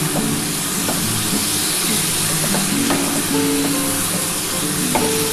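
Onion, ridge gourd and potato fry in a pan in a steady, loud sizzle with constant hiss, under background music.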